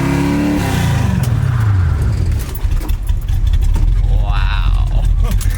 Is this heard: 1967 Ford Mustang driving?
yes